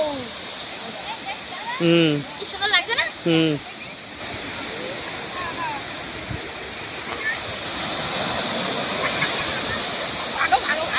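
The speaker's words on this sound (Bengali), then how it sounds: "এটা হচ্ছে বকখালির সমুদ্রের ঢেউ" Sea waves at Bakkhali beach wash in a steady broadband roar, rising toward the end, with a person speaking briefly near the start.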